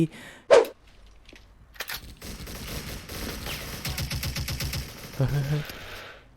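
Bursts of rapid automatic gunfire from a Devil MG36 machine gun in the game Special Force rattle in quick succession, punctuated by a sharp louder shot, with game effects and a voice in the background.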